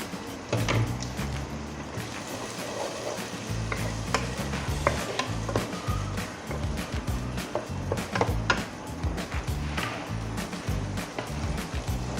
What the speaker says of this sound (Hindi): अब इसमें मैं टमाटर ऐड करूँगी।